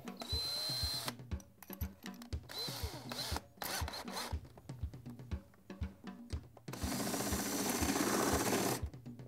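A power drill fitted with a 17/64 bit drills through a metal running board for a ski bracket mount, buzzing in stop-start bursts of whine and grinding, then one longer sustained run near the end, close up.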